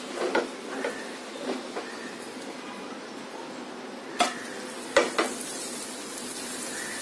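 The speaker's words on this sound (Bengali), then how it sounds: "এখন আমি উল্টে দিব। উল্টে দেওয়ার সময় খুব খেয়াল রাখতে হবে।" A snack fries in a pan with a steady, soft sizzle, broken by a few sharp clacks and scrapes as it is flipped over; no one speaks.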